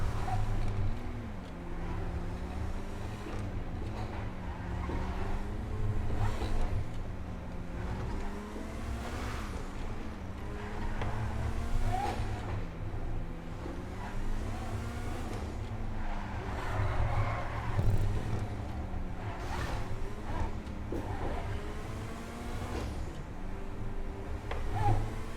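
Neo sports car in GTA 5 accelerating hard, a steady engine drone rising and falling in pitch through repeated gear shifts, loud and continuous throughout with music-like tones underneath.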